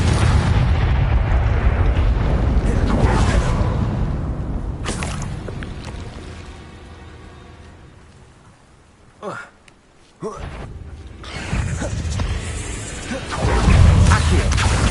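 Confringo spell explosions in the video game Hogwarts Legacy, loud booming blasts with rumbling low end that swell, fade, then burst again with crackling debris, mixed with game effects and a voice speaking.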